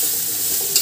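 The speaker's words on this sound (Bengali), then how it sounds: "এই আলু আর সয়াবিনটা খুব ভালো করে ভেজে নেবে।" Potato and soybean pieces frying in oil in a pan, a brief, loud, steady sizzle with a short scrape at the end.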